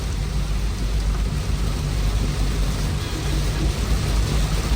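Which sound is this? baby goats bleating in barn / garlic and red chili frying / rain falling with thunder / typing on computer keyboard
rain falling with thunder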